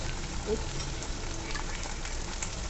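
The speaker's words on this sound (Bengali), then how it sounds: "পেঁয়াজটা সামান্য ভাজা হয়ে আসলে এখন দিয়ে দিব আদা বাটা দুই চা চামচ" Onions frying in oil with ginger paste just added, a steady close broadband sizzle that holds evenly throughout with no voices over it.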